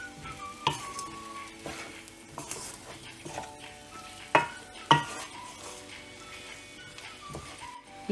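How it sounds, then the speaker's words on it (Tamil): Sambar ingredients fry in hot oil in a pan, a soft sizzle under repeated scraping stirs and occasional sharp clinks of a metal spoon against the vessel, close and with nobody talking. "இப்போ இதை நல்லா ஃப்ரை பண்ணிடலாம். இந்த எண்ணெயிலே இது நல்லா ஃப்ரை ஆகணும்."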